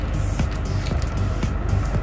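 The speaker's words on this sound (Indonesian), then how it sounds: "sepertinya airnya sudah lumayan mendidih, sudah berbunyi." Water heating to a boil in an electric kettle in a hotel room, giving a steady rushing, bubbling roar with faint rhythmic ticks, close and continuous throughout without any voices.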